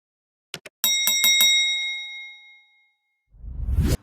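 A notification bell sound effect: two quick taps, then a bright ringing ding struck several times in fast succession that decays slowly, followed by a short low whoosh.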